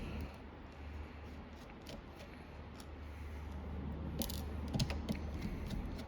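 A Phillips head screwdriver backing out small screws: faint ratcheting clicks and scraping metal ticks at close range, quiet and intermittent over a low background hum.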